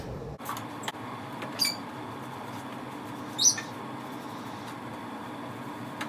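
Pet birds in a veterinary boarding room give a couple of short, faint chirps over a quiet indoor hum, spaced a few seconds apart, with no speech.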